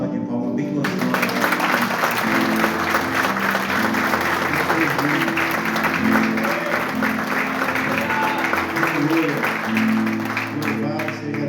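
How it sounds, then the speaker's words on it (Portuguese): A church congregation breaks into applause during a service, a loud sustained round of clapping that begins abruptly and fills the room for about ten seconds, with a low sustained tone and murmured voices beneath. "Dá uma salva de palmas bem gostosa."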